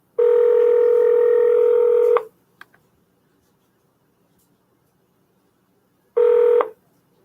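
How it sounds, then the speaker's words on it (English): Telephone placing an outgoing call: a loud, steady electronic ring tone lasting about two seconds, a long silent gap with a couple of faint clicks, then a second ring tone beginning near the end. "Give me a thumbs up if you can hear the ringing."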